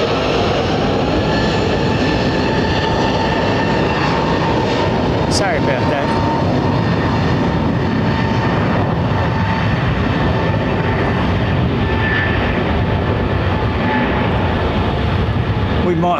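Airbus A330-900neo airliner at London Heathrow Airport, a steady broad engine roar holding throughout, with voices talking over it.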